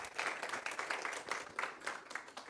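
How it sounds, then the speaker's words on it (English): Members of a Sunday church service clap for the volunteers, a moderately quiet round of applause with distinct individual claps over about two and a half seconds. "Just give them a round of applause."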